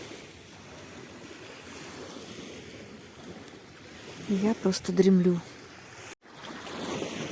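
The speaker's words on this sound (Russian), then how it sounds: "Так умиротворенно волна на берег набегает. Такой легкий звук, усыпляющий." Gentle sea waves lap against a shore in Abkhazia, a soft, steady wash of surf running through the whole stretch, with a voice speaking briefly over it midway.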